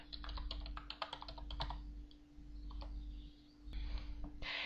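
Commands typed on a computer keyboard in a quick flurry of close key clicks, then scattered taps and a final burst, quiet under a steady electrical hum, with no voices.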